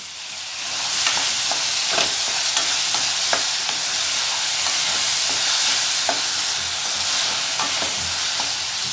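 Tomatoes sautéing in a pan for Chettinad country-chicken egg curry, a steady loud sizzle with frequent small stirring clicks and scrapes throughout, close up and without talk.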